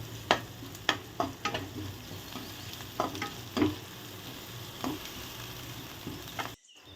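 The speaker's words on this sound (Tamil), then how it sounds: "ரெண்டுத்தையும் சேர்த்து நல்லா வதக்கணும்" Ginger, garlic, curry leaves and green chillies sauté in a pan, a steady soft sizzle broken by repeated close scrapes and knocks of a spoon stirring, with no talk.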